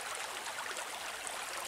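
Cold, icy spring water from a Bashkir spring running and splashing as hands are rinsed, a steady close broadband rush with no talk.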